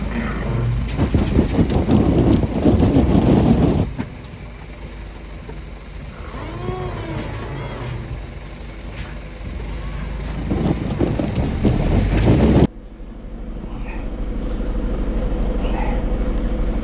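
A car with snow chains fitted rolls a few metres over snow in Sweden, giving a loud close rumble with clinking, jangling chain noise, then stops and leaves quieter ambient sound.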